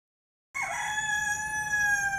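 A rooster crows after a moment of silence, one loud, sustained cock-a-doodle-doo heard close and clear with nothing else over it.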